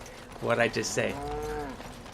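A cow in the video game Dragon Age: Origins lets out one drawn-out, close, loud moo that rises and then sustains its tone before fading, with no talk over it.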